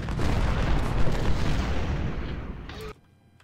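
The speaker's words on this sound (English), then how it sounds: "Oh no, they're still shooting." Dense rolling volleys of gunfire and cannon booms from a Civil War battle in the strategy game Ultimate General: Civil War, loud and continuous, cutting off abruptly near the end.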